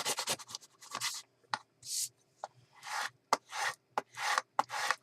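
A hand rubs and smooths glued paper in a paper bag journal, making repeated dry scratchy swipes in short bursts with brief pauses between, close and fairly loud.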